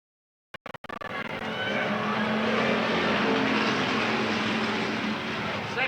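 Stock cars race at Eugene Speedway, their engines roaring together as a loud, sustained drone that swells in after a few brief clicks. A muffled voice is faintly present beneath the engine noise.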